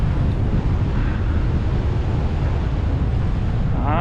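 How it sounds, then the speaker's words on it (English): A headwind on a cycling ride roars across the microphone as steady, loud low rumbling buffeting, unbroken for the whole stretch. "We got the headwind for sure."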